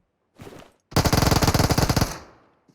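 Close, loud automatic gunfire in PUBG Mobile: a short muffled burst, a brief gap, then a fast rapid-fire stream of about twenty evenly spaced shots that stops abruptly.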